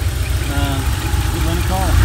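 A 1985 Porsche 911 Carrera Targa 3.2 engine idles with a steady, close, low rumble and even vibration, and faint voice-like sounds occasionally rise above it.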